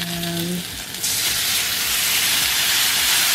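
Ginger and scallions hit a hot pan and break into loud, steady sizzling that hisses brightly and continues without pause.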